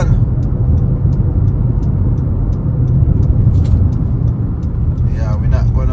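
A car drives slowly over a potholed road in Jamaica: a loud, steady engine and tyre rumble with low road noise runs throughout, close up, and a voice talks over it near the end.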